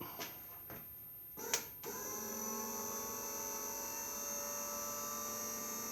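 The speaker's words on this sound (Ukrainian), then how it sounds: "Це зараз включений насос прокачки масла." An oil priming pump runs on a D21 tractor engine, a steady whining hum with a sustained high tone that sets in after a few sharp clicks and knocks and holds evenly to the end.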